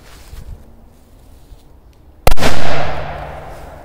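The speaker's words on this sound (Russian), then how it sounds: "Следующая петарда Black Devil." A Black Devil firecracker goes off inside a washing machine with one sharp, loud blast after a quiet stretch, followed by a rumbling metallic ring that slowly fades.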